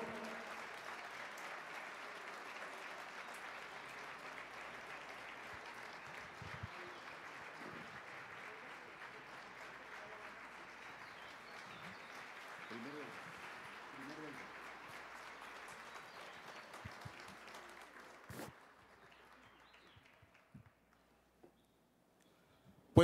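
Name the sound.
audience applause for national leader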